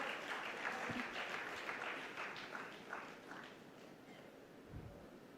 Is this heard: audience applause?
yes